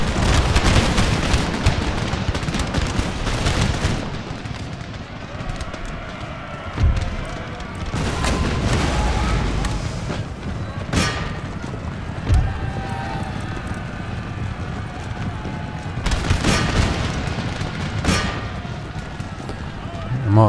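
Artillery fire rumbles through a siege battle in Empire Total War (Darthmod), with repeated deep booms and sharp cracks over a dense, continuous battlefield din of distant gunfire and movement.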